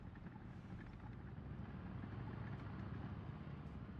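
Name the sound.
M18 tank destroyer engine, War Thunder video game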